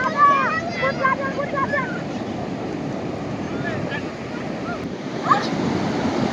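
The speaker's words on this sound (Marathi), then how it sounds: "हे आरबी समुद्र आहे आम्ही दंडा बीचवर इथं आलो" Arabian Sea waves wash onto Danda beach at Alibag in a steady, broad roar, with wind buffeting the microphone, faint distant voices and a brief swell near the end.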